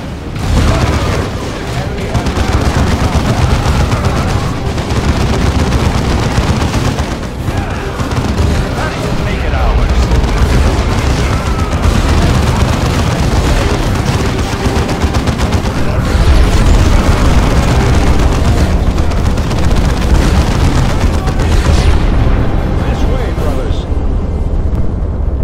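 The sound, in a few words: artillery fire in video game Dawn of War 2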